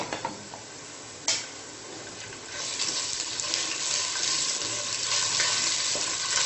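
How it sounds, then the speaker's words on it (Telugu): Ginger garlic paste fries with browned onions and vegetables in a pan for soya chunks pulao, a steady close sizzle that swells after a sharp clink early on, with no voices. "కొంచెం ఫ్రై అవ్వనివ్వాలి"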